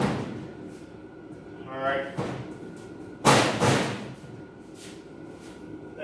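A drawer on a Kobalt tool cabinet slides and shuts with a solid slam near 3.3 s, following a lighter thump and rattle around 2 s, while a person speaks briefly nearby.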